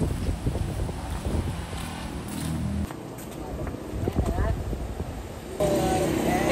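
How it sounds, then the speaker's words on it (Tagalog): Strong wind buffets outdoors in a rainy setting, a loud, rough roar and rumble with gusty swells throughout, while people talk over it. "malakas yung hangin lang"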